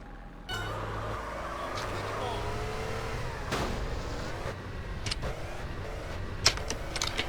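A car in GTA San Andreas drives and revs, its engine droning and rising in pitch with gear changes over a continuous road roar, with a few sharp clunks and voices talking at times.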